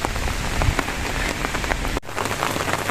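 Rain pours steadily onto surfaces outdoors, a dense, loud hiss of drops with scattered sharper splashes, broken by a brief dip near the end, with no talk.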